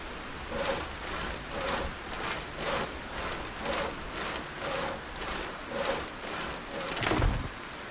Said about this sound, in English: Get back out in that rain and build some shit.